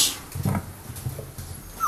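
Red-and-black Belgian Malinois puppies, 53 days old, give a few soft, low whimpers and grunts. A brief higher whine comes near the end, close by and fairly quiet, with no talking.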